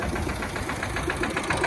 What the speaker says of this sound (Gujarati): હવે આપણે છે ને ટ્રેક્ટરમાં વારો આવી ગયો